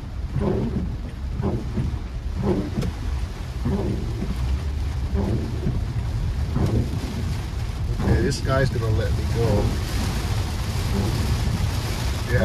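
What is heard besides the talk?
heavy rain while driving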